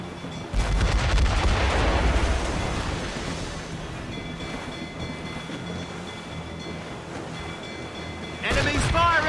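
Enemy ship cannons fire in Assassin's Creed Rogue, a heavy booming volley at the start rolling into a long rumbling decay amid sea noise, then another loud burst at the end with voices shouting.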